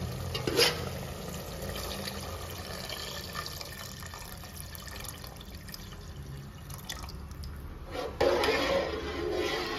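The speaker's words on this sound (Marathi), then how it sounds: "आता मी या मिश्रणामध्ये पाणी टाकत आहे." Water poured into a pan of frying prawn masala for a spicy village-style kolambi curry, a continuous splashing trickle over background sizzle that swells louder near the end.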